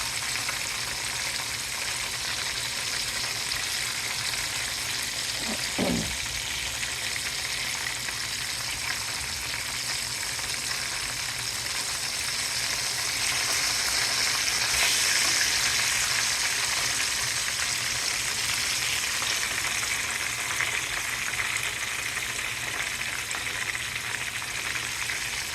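Thick deer steaks fry in a pan with a steady, dense sizzle that holds at an even level throughout, close up and with no voices.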